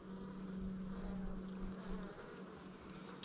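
Honey bees droning around an open hive during an inspection, a close, low steady buzz with a lingering hum that fades partway, fairly quiet and without talking.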